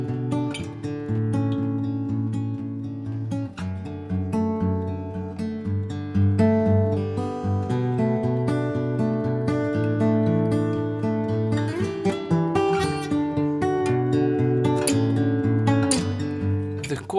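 Acoustic guitar fingerpicked in a funky P-I-P-M pattern, bass and treble notes alternating in a steady, lively rhythm across several easy chord shapes, played close and clear with no talking.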